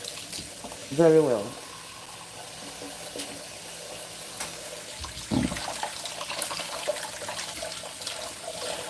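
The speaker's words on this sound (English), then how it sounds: "Under running water." Tap water runs steadily while produce is rinsed for a morning juice, a constant wash of flow in a kitchen sink with a brief clatter and a voice speaking over it.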